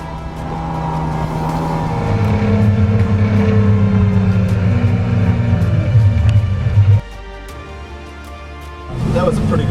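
A boat runs under an Evinrude E-TEC 200 outboard motor, its engine tone climbing and then droning steadily. It cuts off abruptly partway through and returns near the end.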